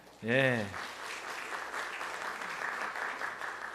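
A church congregation at a Sunday service claps for a newly appointed youth teacher, steady broad applause lasting several seconds after a brief voice at the start.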